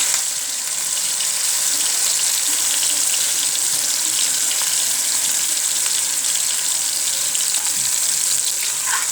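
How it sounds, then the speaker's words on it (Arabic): Chicken liver tipped into hot oil with peppers, Alexandrian style, gives a loud steady hiss and sizzle with fine crackling, close and continuous without a break. "هنجيب بقى بالكبده هفضيها اهي"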